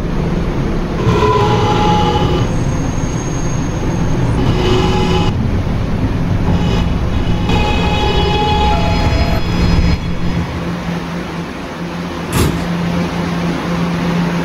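An R211A E subway train rides between stations, its steady loud rumble of wheels and motors rising and falling with brief bright screeches and squeals layered on top, with no voices.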